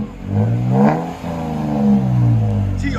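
A Toyota Tacoma 3.5L V6 with a Black Widow exhaust revs up twice, its smooth, deep note rising and falling. The engine is loud and close, with no voices.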